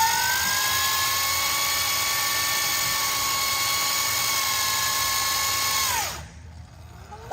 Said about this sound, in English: do a burnout. This is how you do it. Squeeze the front brake, press down on the forks, both feet on the ground in front of the pegs,